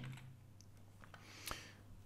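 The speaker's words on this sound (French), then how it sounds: "Dans la fenêtre qui apparaît, vous tapez le mot" A few light, scattered keystrokes on a computer keyboard while typing a single word into a Logic Pro shortcut window, quiet and close over a low steady hum.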